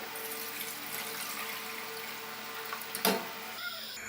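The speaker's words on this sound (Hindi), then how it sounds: "दूध डालेंगे।" Milk is poured into a pot while making an Eid sweet dish, giving a steady liquid stream that continues for several seconds, followed by a brief clunk and a splash near the end.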